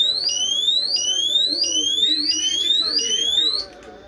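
A new motion detector alarm sounds loudly with a repeating rising electronic whoop, about six sweeps in steady rhythm, then cuts off abruptly near the end.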